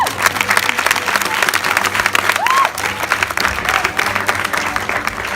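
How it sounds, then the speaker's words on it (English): A big round of applause from an audience at a children's sports and arts festival, with steady dense clapping throughout and a voice briefly rising over the crowd noise. "I mean, give me a big round of applause."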